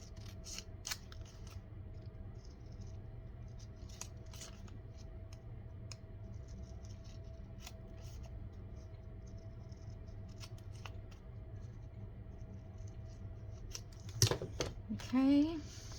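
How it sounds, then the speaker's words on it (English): Small scissors snip through a paper label in a few quick, crisp cuts near the end, after a long stretch of quiet room hum. "Let me get my smaller scissors."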